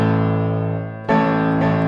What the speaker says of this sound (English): that nice resonance because the dampers are removed from the strings.